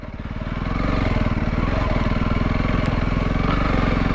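Honda CRF300L motorcycle engine running steadily on a green lane, a close, loud single-cylinder thrum with rapid even firing pulses that swells in the first half second and then holds a constant drone.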